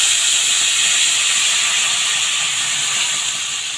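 Coconut milk sizzles and simmers in a hot pan with taro already boiled in it, a steady loud hiss that holds evenly throughout with no talking.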